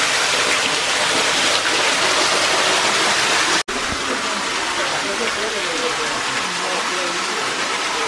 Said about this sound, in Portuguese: Ali tem uma cachoeira.